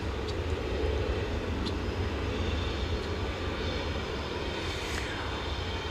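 A CRJ 701ER regional jet, American Eagle 6405 bound for Santa Fe, departing at night from DFW Airport: a steady, broad jet engine roar holding at even loudness throughout, with no talk.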